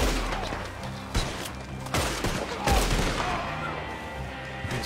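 Gunfire in the video game Red Dead Redemption 2 on PS4, with several sharp shots and a booming volley cracking over a busy soundscape of in-game noise and background music.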